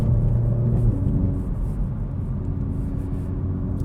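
A car driven hard with a close, loud engine rumble and whir that rises briefly at the start then settles into a steady drone, no voices.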